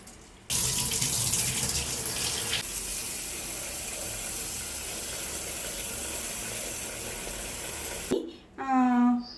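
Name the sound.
washing soaking rice under water for fish biryani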